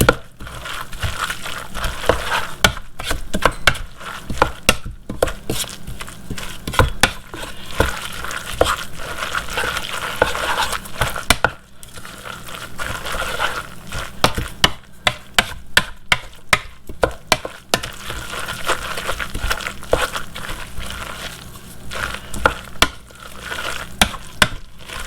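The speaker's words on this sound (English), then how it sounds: "Now just gonna mix everything together." Salt, pepper, onion powder and egg are mixed together in a bowl, a continuous close-up churning of wet squelches and scraping stirs, steady for the whole stretch with a brief pause midway.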